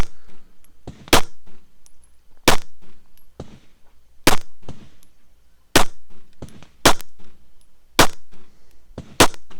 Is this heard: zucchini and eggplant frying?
no